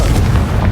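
A Confringo fire spell bursting in Hogwarts Legacy, a short, loud, heavy boom with a deep rumbling body lasting under a second and no talk over it.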